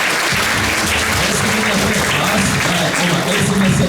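Warm, friendly applause from an assembly hall at a school's first-day ceremony as first-grade pupils leave for their first lesson; dense, loud, continuous clapping from many hands.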